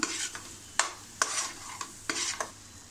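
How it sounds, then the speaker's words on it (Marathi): Malvani masala with turmeric is sautéed in a pan for stuffed brinjal, with repeated spoon strokes scraping through a soft, close sizzle. "थोडीशी हळद, हे छानपैकी आपण परतून घेऊया"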